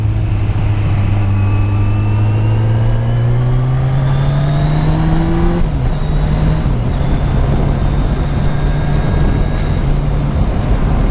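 A motorcycle's deep, slightly carbon-fouled exhaust pipes roar steadily up close, the pitch climbing through a long acceleration, dropping briefly at a shift, then holding a strong, continuous drone.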